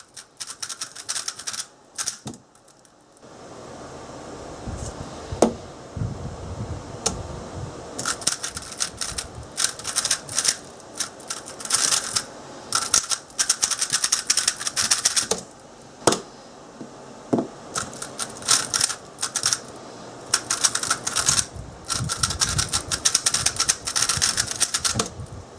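A speed cube is turned rapidly during solves, giving continuous dense clicking and clacking that runs in quick irregular flurries with brief pauses, close and fairly soft, with no talk.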